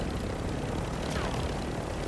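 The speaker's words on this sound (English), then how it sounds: "Another helicopter." Helicopter in the Call of Duty DMZ video game, a steady, dense rotor and engine roar held at an even level for about two seconds with no talk over it.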